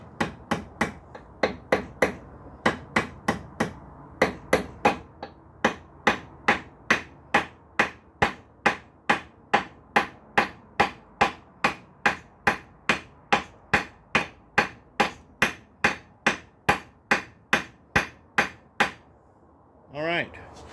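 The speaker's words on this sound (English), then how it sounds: "Take a hammer." Rapid, regular hammer blows forging a metal belt buckle, around thirty sharp metallic strikes at a steady pace, close and clear.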